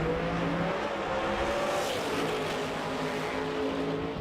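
Outlaw 632 drag race cars, including a Corvette and a '69 Firebird, roar through the final round at the U.S. Street Nationals; a loud, sustained engine drone holds steady, with pitch shifting slightly as the cars run.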